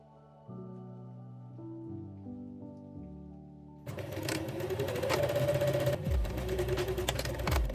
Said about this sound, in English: Fold each button placket along the fold line, right sides together, and sew the bottom edge.